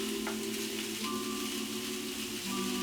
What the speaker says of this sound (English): So we're just gonna add the whites of the green onions to the pan.